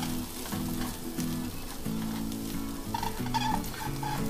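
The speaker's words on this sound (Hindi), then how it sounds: "बस ये तीन मसाले हम इसमें डालेंगे और इसको अच्छे से फिर से मिला लेंगे।" Spices being stirred into chole in a kadhai: a steady sizzle of frying masala with scraping spoon strokes against the pan in repeated bursts, close and fairly loud, no talk.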